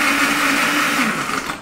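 A blender crushes ice with milk for a coffee frappé, giving a loud, steady, close whirring grind that runs alone without a break.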